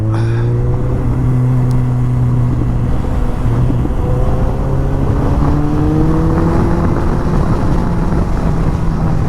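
A KTM 390 motorcycle rides through a canyon corner, its engine a loud, steady drone with the pitch gliding as the rider trail brakes and leans, mixed with continuous wind rush close to the microphone.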